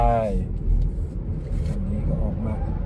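An MG4 electric rear-wheel-drive car pulls away from a standstill with a low, steady rumble of motion and a faint whine at the start, close and continuous, with a voice talking over it.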